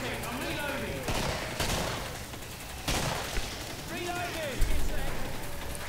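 Gunfire in Killing Floor rings out as sharp, irregular shots and bursts over a dark, noisy game backdrop, with a voice talking between the blasts.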